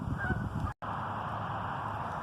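Wildfowl honk in the distance in a riverside park, a faint goose-like call over steady outdoor background noise, with a brief dropout partway through.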